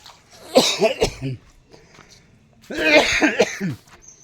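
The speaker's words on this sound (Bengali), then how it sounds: "বাবা রে কাশিটা এত হচ্ছে কেন" A person nearby coughs in two harsh bursts, with a quiet pause between them.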